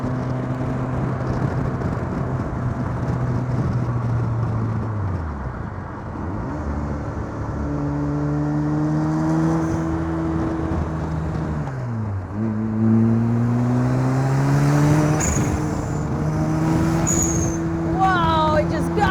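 A home-built Lotus 7 replica with a 400 hp turbo RX7 rotary engine accelerates hard through repeated gear changes, its loud buzzing note climbing and dropping between shifts, with brief voices alongside.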